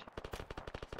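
Rapid automatic gunfire in a multiplayer military shooter game, a quick rhythmic burst of about a dozen sharp shots, moderately distant and fairly faint, with no talk over it.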